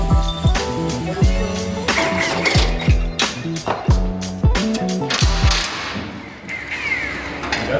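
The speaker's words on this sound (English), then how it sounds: "So we have 18 bolts in total to take out" A ratchet wrench clicks rapidly while subframe bolts come out of a 2026 Dodge Charger being built as a drift car in a garage, in loud, close bursts with metallic clinks between them.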